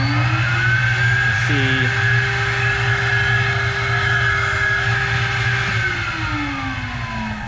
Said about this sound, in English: This machine actually tells us air leakage, CFM, velocity, everything.